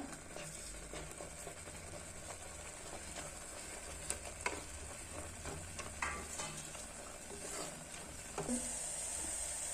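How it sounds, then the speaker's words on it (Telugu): Masala with curry leaves and mint sizzles and fries steadily in a pan for dry mutton curry, a soft continuous hiss broken by occasional scraping stirs, close and fairly quiet. "మసాలాలను కూడా కొంతసేపు వేయించుకున్నాము ఇందులోనే కొంచెం కరివేపాకు పుదీనా కూడా వేసుకుంటున్నా"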